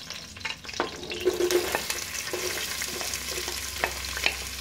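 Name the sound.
frying and stirring in a pan for mutton paya curry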